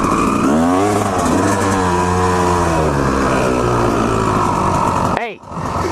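A two-stroke dirt bike engine revs loudly and close, its buzzing pitch climbing and falling through several throttle blips before a sharp mechanical clunk near the end.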